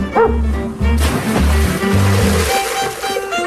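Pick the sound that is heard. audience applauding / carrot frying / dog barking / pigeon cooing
dog barking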